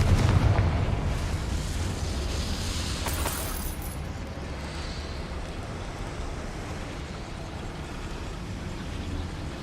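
A Confringo fire spell erupts in the Hogwarts Legacy video game with a loud blast up front, then a sustained roaring rumble like heavy explosive debris that holds steady to the end.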